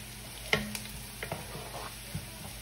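Garlic and onion frying in a pan for baked chicken macaroni, a soft continuous sizzle with a few scattered stirring knocks and scrapes, close but fairly quiet, no voices.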